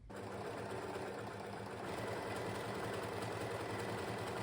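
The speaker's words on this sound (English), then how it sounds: "I've now overlocked around all the edges on my facing" An overlocker runs steadily around the edges of a dress facing, a constant fast mechanical whir that holds even throughout, without speech.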